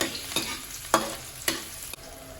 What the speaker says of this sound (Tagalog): gisa lang natin yung garlic